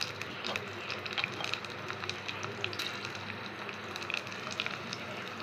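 Tempering of oil with green chillies, curry leaves, cumin and mustard seeds sizzles and crackles in a pan for buttermilk, a steady moderate frying hiss with small pops throughout.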